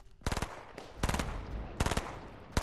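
Short, rapid bursts of Fortnite gunfire rattle out in four tight clusters, each a quick string of sharp shots, loud and close against a low background murmur.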